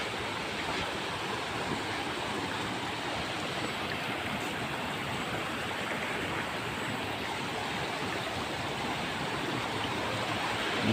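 Suntale Khola, a mountain river in the Neora Valley, rushes steadily along its bank in a continuous broadband roar of flowing water, close and constant throughout with no voices.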